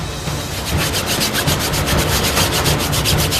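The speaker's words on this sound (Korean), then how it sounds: "솔에 세제를 묻혀 꼼꼼하게 곰팡이를 닦아냅니다" A brush soaked in detergent scrubs mold off a surface at a theme park water park, making rapid, rhythmic, close-up rubbing strokes that repeat evenly without pause and with no voices.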